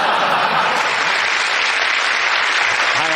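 A studio audience at a British comedy panel show breaks into sustained, dense applause, loud and steady throughout with a few cheers mixed in.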